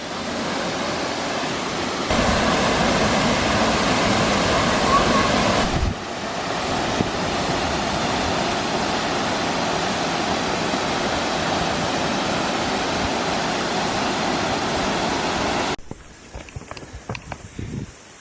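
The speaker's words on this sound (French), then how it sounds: "On arrive à la première cascade. C'est Anna Falls." Anna Falls in New Zealand roars as a steady, dense wash of falling water close by, loud and unbroken for most of the stretch before dropping suddenly to quieter, rustling outdoor noise near the end.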